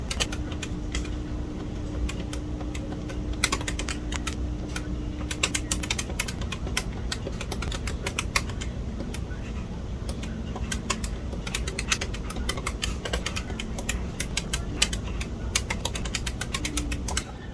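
Keys clack on a TRS-80 MC-10 home computer as a BASIC program is typed, producing irregular close clicks over a steady background hum. No one speaks.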